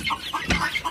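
Chickens cluck in a poultry flock that includes several sick birds with snot disease, short irregular clucks repeating close by with no talk over them.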